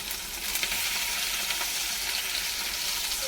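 Masala fish fries in hot oil with curry leaves added, producing a dense, loud, continuous sizzle with small crackling pops throughout.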